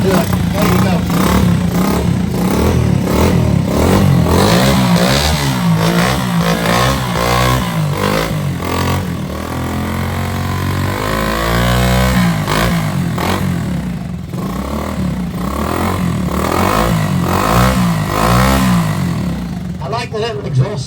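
A vintage motorcycle engine fired up in a garage, rapid throaty exhaust pulses revving up and down and sustained loudly close by, with mechanical clatter and some people talking nearby.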